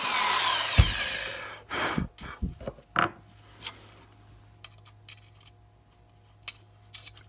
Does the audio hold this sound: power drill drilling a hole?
yes